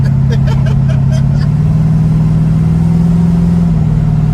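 A Nissan 280Z fitted with a swapped small-block Chevy 350 V8 drives along, its deep engine drone holding steady and loud before a brief shift in pitch near the end, with a few light clicks early on.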